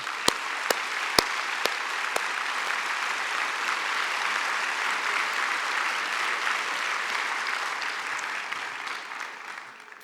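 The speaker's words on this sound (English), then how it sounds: "So please, one more round of applause for them all." A large audience at a library association congress closing ceremony claps steadily and evenly for the award recipients, a dense sustained wash of applause with a few sharp nearby claps at the start, fading slightly at the end.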